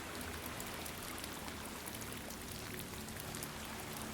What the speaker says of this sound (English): you start hearing the sound of rain below you. The rain on concrete.